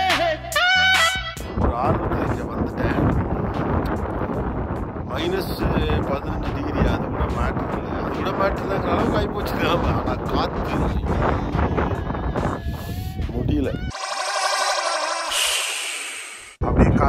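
Strong wind roars outside a fishing hut on a frozen lake at -18°C, a loud, continuous rushing that fills most of the clip before cutting to a brief, brighter hiss near the end.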